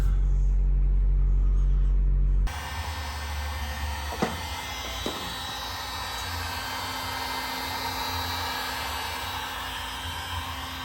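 A car engine idles while warming up, a steady close rumble and hum that begins after a short quieter stretch, with a couple of brief clicks partway through and no talking.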